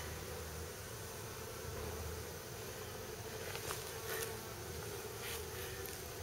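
Dense, steady buzzing of many honey bees in a container, a continuous droning hum that sounds enclosed and muffled, with no voices.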